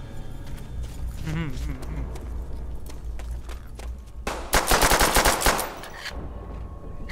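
Rapid pistol gunfire in the video game World at War, a dense burst of sharp, loud shots crowding together in the middle, with game sounds and a voice talking around it.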